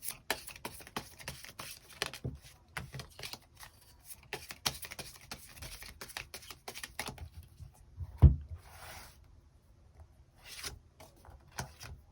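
Tarot cards are shuffled and drawn in a quiet room, producing a dense run of soft riffling, slides and taps that thins out into occasional card snaps and flicks near the end.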